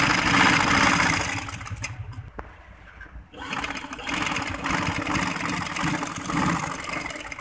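A sewing machine runs in steady bursts while stitching the edges of a frock, with a short pause partway through before the whirring motor resumes, close and fairly loud.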